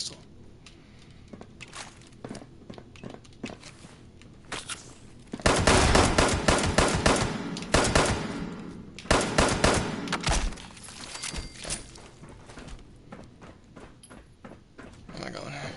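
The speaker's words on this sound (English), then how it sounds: "Shoot. Pistol." Pistol gunfire in Fallout 76, with rapid bursts of sharp shots clustered mid-clip and scattered pops around them, heard alongside someone speaking.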